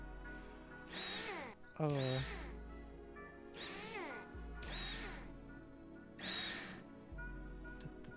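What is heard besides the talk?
power drill removing cover screws, from video game Rover Mechanic Simulator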